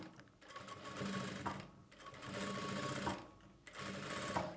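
A sewing machine stitches the slit of a churidar, its motor running in steady bursts of rapid needle chatter separated by short pauses, close and clear with no talking.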